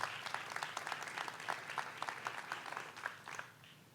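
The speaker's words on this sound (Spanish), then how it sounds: "Da un fuerte aplauso a Dios." A church congregation claps for several seconds, the individual claps fairly distinct and somewhat rhythmic, moderately distant and fading slightly toward the end.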